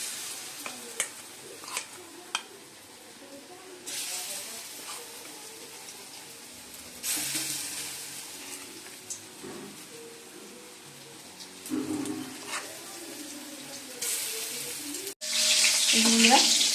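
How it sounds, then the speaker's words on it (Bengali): Chicken pakoras sizzle and spit in hot oil, a steady frying hiss broken by louder bursts and a few sharp pops, close by with no talk over it. "এখানে চিকেন পকোড়া করা হচ্ছে।"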